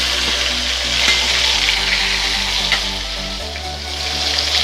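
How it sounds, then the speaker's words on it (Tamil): Eggplant frying in hot oil as part of cooking rava upma, a loud, continuous close sizzle with some stirring and no talk. "கத்திரிக்காய் பொரிக்க போகிறேன்."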